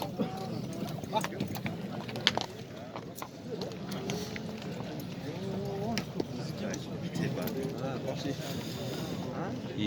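Horse hooves clip-clop at a busy horse market in Nookat, a scattering of irregular knocks half buried under steady crowd chatter and voices.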